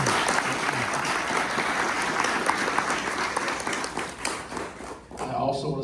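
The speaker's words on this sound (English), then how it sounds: "I think everybody should give them a round of applause." A room full of people applauds candidates at a town alderman forum, with dense, sustained clapping that stays loud and even for about five seconds before it thins out and a few murmuring voices come through.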